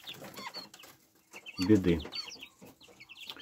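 A broody hen with her newly hatched chicks, about a week or ten days old, in a warm shed: a low clucking burst from the hen amid high peeping chicks, with someone speaking briefly.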